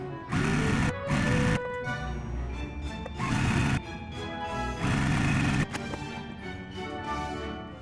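Sewing machine stitching quilt pieces together at a quarter-inch seam, loud close whirring in several bursts of about a second each, separated by quieter mechanical pauses, no talking.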